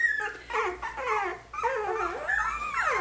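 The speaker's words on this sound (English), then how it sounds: "They're just waking up, so we'll get lots of voices going here." Three-week-old puppies whimper and yip as they wake, close and fairly loud, with wavering high cries that rise and fall in several overlapping bursts and a brief pause midway, without any human talk.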